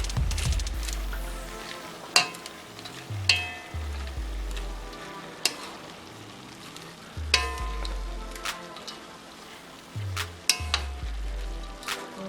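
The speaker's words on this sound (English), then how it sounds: "Then I'm going to add in my carrots and beans." Carrots and beans dropped into a hot pan for chicken fried rice, frying with a steady close sizzle and periodic clinks and scrapes of a utensil stirring against the pan, with no one talking.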